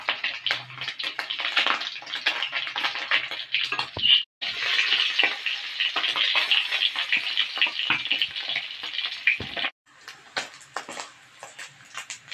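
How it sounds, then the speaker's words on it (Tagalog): Dried galunggong fish (scad) frying in a pan, a loud close crackling sizzle that runs almost continuously, broken by two brief silent gaps, with no voices. "magluluto tayo ng pritong daing na galunggong"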